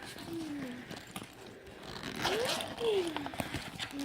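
A zipper on a diaper bag pocket is pulled open and shut in a few quick scraping runs, close by, with some soft handling noise around it.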